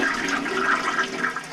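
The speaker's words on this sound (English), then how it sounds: "And when you flush the toilet," A toilet in a small apartment flushes, rushing water heard close and fairly loud, steady throughout with no voices.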